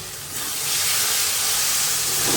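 Chicken masala sizzles and hisses in oil as it is stirred, a loud, steady frying hiss that swells slightly after the first half second and holds close up.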